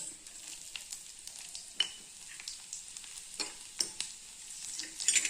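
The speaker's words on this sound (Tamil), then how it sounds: "இது நல்லா பொரியட்டுங்க கடுகு ஜீரகம் நல்லா பொரிஞ்சிச்சுங்க" Mustard seeds, ginger and cumin sputter in hot oil for ragi upma, a steady close sizzle broken by sharp pops and crackles scattered through the stretch, with no talking.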